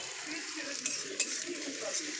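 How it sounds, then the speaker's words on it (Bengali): Onions are stirred and fried in a pan, a soft, fairly distant sizzle with faint scraping of a utensil and a few light clinks against the metal. "তো চলো পেঁয়াজটা লাল লাল করে আগে ভেজে নিই।"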